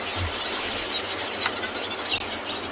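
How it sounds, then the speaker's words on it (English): Weaver birds call from a knobthorn tree at sunset on safari, a busy chorus of high chirps and chatter at moderate distance with no talking. "I can hear weaver birds going absolutely mental."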